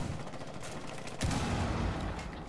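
Gunfire in Rainbow Six Siege, a burst of shots crackling over a busy mix before one heavier blast, moderately loud, with no talk over it.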